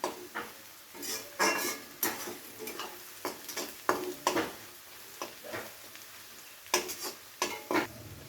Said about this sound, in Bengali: রসুন কুচিটা দিয়ে পেঁয়াজের সাথে হালকা 1 মিনিটের মতো নেড়ে চেড়ে ভেজে নেব